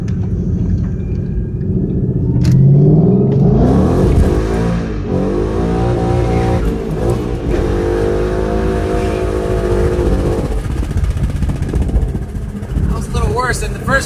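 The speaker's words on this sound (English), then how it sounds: "giving it a quick stab in first, not letting it wind out the gear, and then just dump it in a second, and it should pretty much light up the tires" A 2011 Ford Mustang GT does a burnout, its V8 revving hard in first, then jumping into second and higher gears as the tires spin, with rising engine pitch and loud rumble. A person talks briefly over it.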